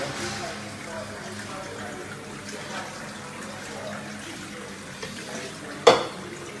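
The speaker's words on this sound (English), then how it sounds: "Put some more water in there." Water pours into a shaker holding a creatine drink in a quiet, continuous trickle, with a sharper clatter near the end and someone speaking intermittently over it.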